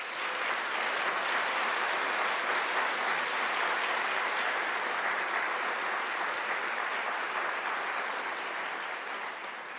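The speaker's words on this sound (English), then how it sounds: "Let us give them a round of applause." Large graduation ceremony audience at the University of South Africa applauds steadily, a dense, even wash of clapping throughout, easing slightly at the end, with no voices over it.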